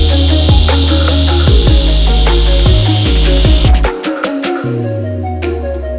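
A car polisher compounds paint with a microfiber cutting pad, whirring loud and close with a steady motor tone and repeated rubbing clicks, then slows and winds down near the end.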